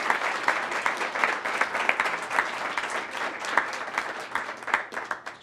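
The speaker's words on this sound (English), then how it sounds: "Guys, give these ladies a round of applause, please" An audience applauds two presenters, steady dense clapping that holds for several seconds at close range with no talk over it.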